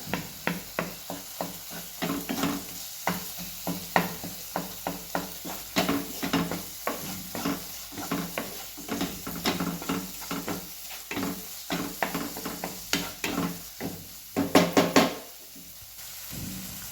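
A spoon stirs red chili powder through a frying vegetable mixture, scraping steadily and rhythmically against the pan under a continuous sizzle, close and fairly loud, with a few brief harder knocks near the end.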